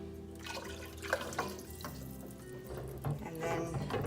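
Water poured into a pot of minestrone soup with broth and tomatoes, a continuous close splashing stream with a few louder bursts over about four seconds, alone without talk.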